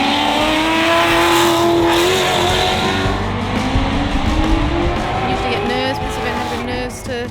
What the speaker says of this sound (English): I guess you can always hear the new exhaust, yes.